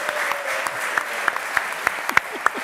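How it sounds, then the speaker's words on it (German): Studio audience applause at a German live sports talk show, a steady, moderately loud patter of clapping with a few sharper individual claps standing out near the end. "einen großen Applaus für Frank Kramer"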